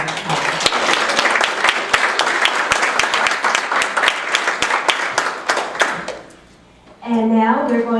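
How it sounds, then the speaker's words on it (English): A church congregation claps in a round of applause, crisp individual claps loud and near for several seconds before dying away, then a voice begins speaking. "Let's give everybody a round of applause."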